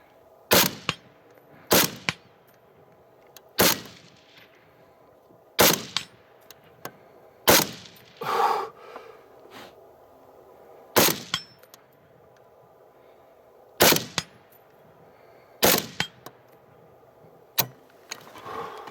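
RAS47 and CMMG Mutant rifles fire outdoors, with about a dozen sharp, loud gunshots spaced a second or more apart, some with a metallic ring, and quiet gaps between.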